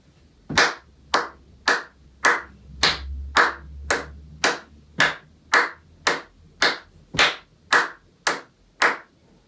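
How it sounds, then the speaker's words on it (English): Sixteen crisp, evenly spaced hand claps from a primary school body-percussion lesson, close and alone, with a soft low stamp underneath some beats. "you can try stamping on the first slug of every 4 as you clap"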